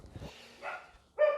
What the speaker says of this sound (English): Wild dogs are barking.